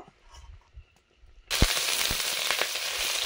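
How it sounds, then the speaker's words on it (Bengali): Boiled potato with spices hits hot mustard oil in a wok, bursting into a loud, steady sizzle after a quiet start with a few soft knocks. "কড়াতে সর্ষের তেল দিয়েছি, আলুটা মশলা দিয়ে কষে নেব"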